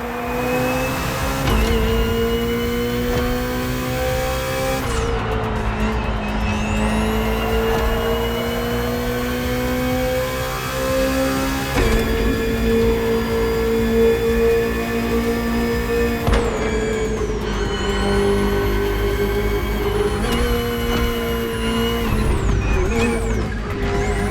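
Sustained high-revving race car engine, the 2023 BMW M Hybrid V8 endurance prototype in The Crew Motorfest, screaming loudly with rising and falling pitch as it shifts through gears, steady and close throughout with no talking.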